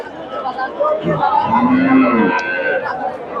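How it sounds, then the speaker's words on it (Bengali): Cows moo loudly and close by at a cattle market in Bogura, a few long low calls overlapping, with a murmur of crowd chatter and voices in the background. "এদের এখানে মোটামুটি প্রচুর গাভী আছে"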